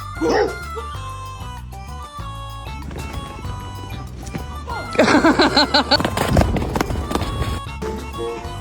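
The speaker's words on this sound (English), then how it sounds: "Dog." A dog barks and whimpers amid a noisy household scene, with a burst of louder yipping and clattering in the middle and music or other sound throughout.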